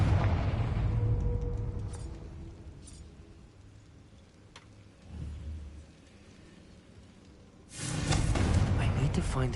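A Confringo explosive spell blast in the video game Hogwarts Legacy, a loud booming burst with rumbling roar that fades over several seconds, then a second strong blast near the end.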